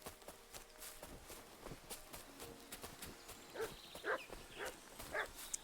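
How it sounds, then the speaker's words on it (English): Dogs barking in the medieval video game Kingdom Come: Deliverance II, a few faint, distant barks mixed with footsteps and soft game ambience, growing a little busier toward the end. "I can hear the dogs, unfortunately."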